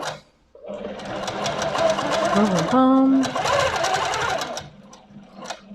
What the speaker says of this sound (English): I've literally sewn that many stitches on here